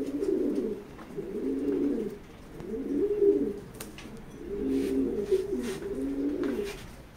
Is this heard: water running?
no